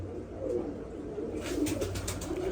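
Pigeons coo softly in a loft or coop, several overlapping low murmuring calls running steadily through the moment with faint outdoor background noise.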